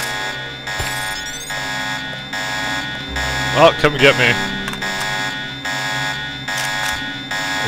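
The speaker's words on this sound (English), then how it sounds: "Except it made a bunch of alarms go off." Several electronic alarms in the video game Deus Ex drone and buzz together in steady pulsing tones, loud and continuous, while someone talks over them and brief game effects flare midway.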